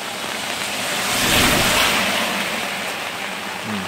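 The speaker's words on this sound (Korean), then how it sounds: "지금 비가 제법 많이 오는데" Heavy rain pours steadily onto a Chevrolet Orlando and the awning over its open trunk during car camping, a dense close hiss that swells and eases slightly.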